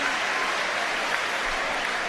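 Football crowd in a stadium applauding a goalkeeper's save during a legends match between Swansea and Manchester United, a broad, steady wash of clapping heard from a distance, with no voices clearly on top.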